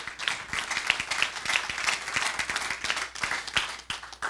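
A church congregation breaks into dense, sustained applause at a sermon, many hands clapping quickly and unevenly, filling the room at moderate volume.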